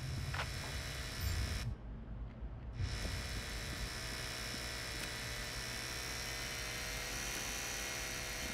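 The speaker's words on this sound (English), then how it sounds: "The speed setting on the drill." Steady high-pitched whine of a drill running in the video game Crime Boss: Rockay City, a continuous mechanical drone that holds level throughout with no talking.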